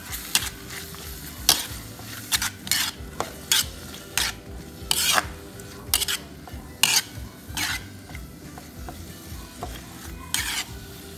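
Pancit canton noodles' ingredients stirred with oyster sauce and pepper in a pan, a utensil scraping in repeated sharp strokes over a steady sizzling fry, close and clear with no talk.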